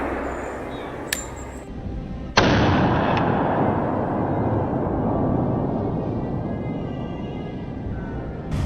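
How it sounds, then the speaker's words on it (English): A single loud rifle shot fired at a wild boar on a hillside cracks sharply outdoors, then rolls into a long fading echo, preceded by a faint click. "Trunk Bernie raised his rifle, took careful aim, and pulled the trigger."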